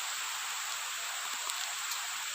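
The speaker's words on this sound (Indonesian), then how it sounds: "Aduh mas bro, cuaca pun turun hujan ya." Steady rain falls during a fishing trip, a dense, even hiss of drops that fills the whole stretch with no voices over it.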